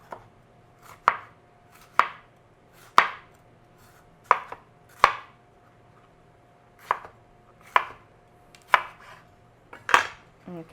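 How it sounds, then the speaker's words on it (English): Knife slicing yellow and red bell peppers into strips on a cutting board, about a dozen crisp, sharp chops at an uneven pace, close and clear with no talk. "I'm going to cut them in strips first."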